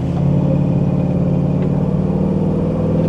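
A front-wheel-drive LS-swapped car with a Holley Terminator X ECU runs loud and close, its engine droning steadily as it pulls under acceleration.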